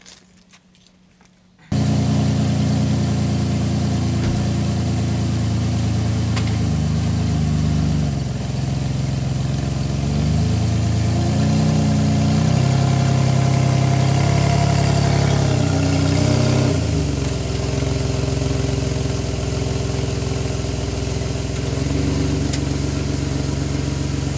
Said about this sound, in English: how much gas I'm giving based on the noise of the muffler